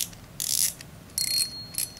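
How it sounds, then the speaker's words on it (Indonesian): Drag of a Daido Iguana BXX 3000 spinning fishing reel clicks in three quick bursts of rapid, close, fairly loud ticking with brief pauses between, no voices. "Kita coba dengar bunyi dragnya."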